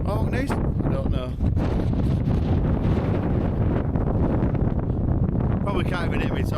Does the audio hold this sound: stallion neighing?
no